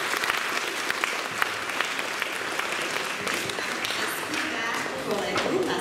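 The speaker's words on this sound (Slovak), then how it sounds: "Veľký potlesk." Audience at a school Christmas concert applauding a young singer, dense and steady clapping filling the hall throughout, with crowd noise and some voices mixed in.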